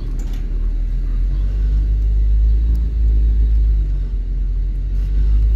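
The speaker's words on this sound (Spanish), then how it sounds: "Vamos a dejar que pase el vehículo" A vehicle rolls past on a village street in La Cuestita, Chavinda, Michoacán, a continuous deep low rumble that stays close and steady throughout, with no talking.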